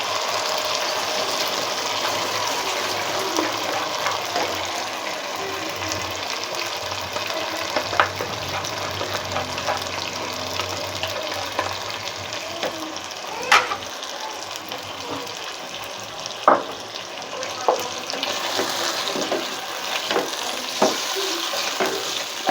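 Chicken korma with added yogurt is stirred in a frying pot, a continuous close sizzle broken by occasional sharp spoon scrapes and knocks against the pot, with no voices.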